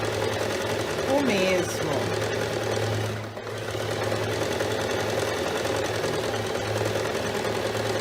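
Domestic sewing machine stitching in reverse on a blouse seam, a steady close mechanical whir running throughout, with someone speaking briefly over it.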